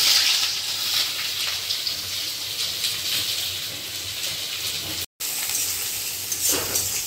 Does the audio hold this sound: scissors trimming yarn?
no